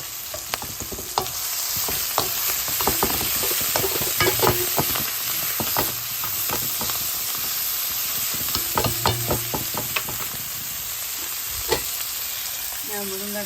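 Onion, fenugreek seeds and green chili sautéing in oil for a Sri Lankan eggplant curry, a steady close sizzle with frequent scraping stirs and spoon clicks throughout, no voices.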